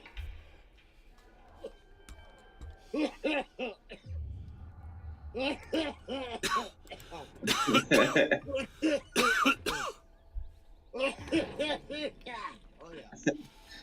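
Repeated harsh coughing fits, close and loud, coming in clustered bursts with short pauses, mixed with throat clearing and heavy breathing.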